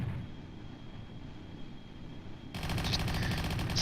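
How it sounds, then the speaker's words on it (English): Aircraft guns in the Kerbal Space Program video game open up in a dense, rapid burst during an aerial duel, starting abruptly after a steady engine drone and staying loud to the end. "They're already shooting at each other."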